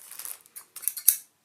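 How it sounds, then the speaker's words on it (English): A few quick snips of scissors slicing through the crinkly plastic bag of a model kit, close up, with short crackling bursts and one sharper snap near the end. "cut it open with the scissors"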